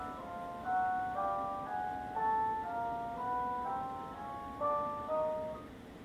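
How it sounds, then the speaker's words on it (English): A chromatic piano scale resynthesized from chroma bins sounds as pure, organ-like tones stepping steadily upward in a continuous, endlessly rising pattern, soft and clean over faint hiss. "the chromatic scale on the piano would sound like this."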